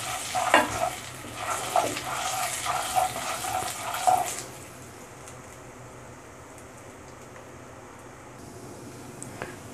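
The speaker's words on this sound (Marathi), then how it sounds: "हे तेल तापलेलं आहे याच्यामध्ये आता सर्वप्रथम मी जिरं घालून घेते." Cumin seeds fry in hot oil for a matar paneer dish and are stirred, giving a steady sizzle with scraping for about four seconds before it drops to a faint background hiss.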